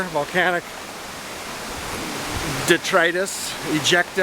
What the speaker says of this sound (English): Wildcat Creek, whoo, love it here. Flowing into Nook Pool.